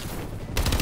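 Automatic gunfire in the video game Advanced Warfare, a quiet stretch then a sudden rapid burst of loud, close shots near the end.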